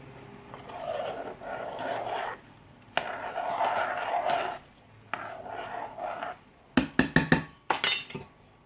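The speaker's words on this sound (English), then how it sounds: "give it a good stir to let everything blend in" A mixture being stirred in a glass container gives repeated swirling scrapes in long sweeps, then a quick run of sharp, bright clinks against the glass at the end.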